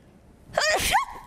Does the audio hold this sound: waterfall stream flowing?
no